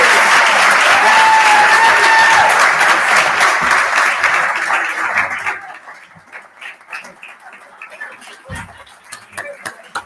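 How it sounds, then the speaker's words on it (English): Audience applause at an awards ceremony: a loud, dense burst of clapping from a crowd that thins and fades to scattered claps after about five seconds. "Just one more round of applause for Connie"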